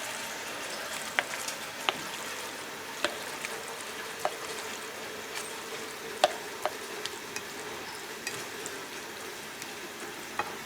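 Shrimp and fresh sausage sizzle steadily in a pan, a constant frying hiss broken by small sharp pops and occasional scrapes of stirring, close and moderately quiet.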